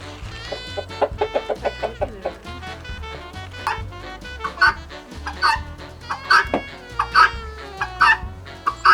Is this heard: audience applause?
no